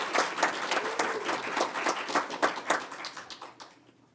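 People at a school board of education meeting applaud a regional championship student, with brisk, fairly close clapping that holds steady for about four seconds and then tapers off.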